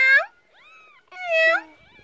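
A young kitten gives two clear, high meows separated by a short pause, close and fairly loud.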